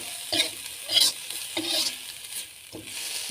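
Potatoes with onions and garlic frying in a skillet, stirred a few times, giving a steady close sizzle with scraping bursts from the utensil, no talking.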